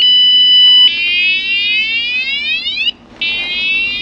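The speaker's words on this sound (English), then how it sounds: "it's the alarm I forgot to turn off on my e-bike" An e-bike's anti-theft alarm blares nearby: a loud, steady electronic siren that sweeps in pitch, cuts out briefly, then resumes. No one talks.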